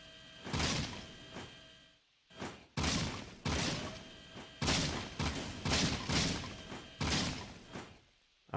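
Gunfire from the Jak and Daxter video game as civilians are shot, with a series of loud, sharp bursts and bangs in irregular clusters, several close together, separated by brief gaps.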